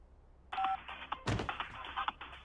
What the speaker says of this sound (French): Tu devrais changer ta sonnerie.